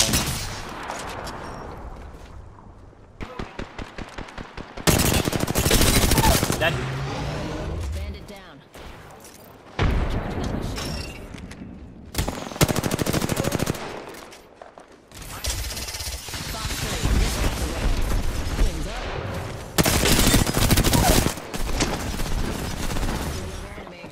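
Gunfire in Apex Legends: loud bursts of automatic fire and fusillades come in several waves separated by quieter gaps, with players talking underneath at times.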